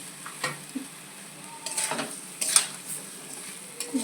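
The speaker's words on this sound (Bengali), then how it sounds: "ডিমটা দিয়ে ভালো করে কষিয়ে নিচ্ছি" Egg curry with boiled potato is stir-fried in a pan: soft sizzling with scattered scraping and clinking as a utensil stirs, close and moderately quiet.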